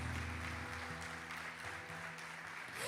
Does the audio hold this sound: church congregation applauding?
yes